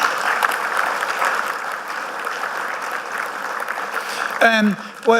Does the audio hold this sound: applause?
yes